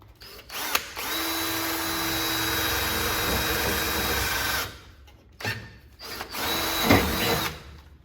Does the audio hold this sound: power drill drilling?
yes